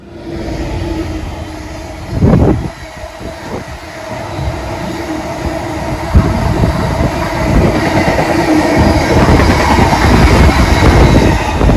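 A West Midlands train rolls along the rails toward Stourbridge Junction with a steady low rumble and rhythmic wheel clatter, a brief louder thump early on, the noise building slightly toward the end.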